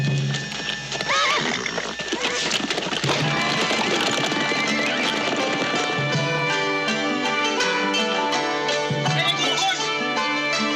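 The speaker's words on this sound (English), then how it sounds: "Get the horses!" Horses neigh and whinny loudly over a dense, full-volume mix of hooves clip-clopping in a Western shootout scene, the sound continuous throughout.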